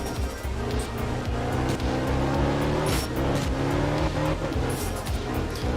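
A rally car races over snow in Art of Rally, its engine droning loud and continuous with rising and falling revs through gear changes, plus a brief tire squeal, with no voices over it.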